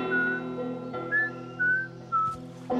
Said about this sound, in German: Ich pfeife!